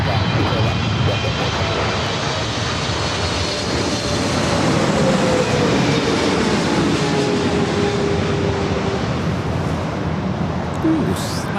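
A Delta airliner takes off from runway 24 left at LAX, its jet engines roaring loudly and continuously for about twelve seconds with a slowly shifting tone as it accelerates.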